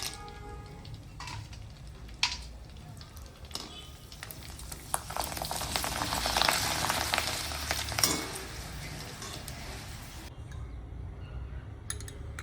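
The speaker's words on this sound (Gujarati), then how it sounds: "હવે આપણે ભૂંગળા તરી લઈશું." Bhungla, a fried snack for Dhoraji bhungra bateta, frying in hot oil gives a steady close sizzle that swells louder midway, with a few sharp clinks from stirring along the way.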